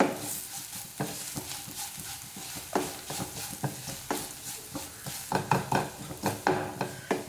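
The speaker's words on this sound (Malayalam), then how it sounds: "ഇനി ഇതെല്ലാം കൂടി നമുക്ക് നന്നായിട്ടൊന്ന് മിക്സ് ചെയ്ത് കൊടുക്കാം." Spice powders are stirred in a pan for a Kerala-style egg curry, with rhythmic, close scraping strokes over a soft sizzle that grow busier toward the end.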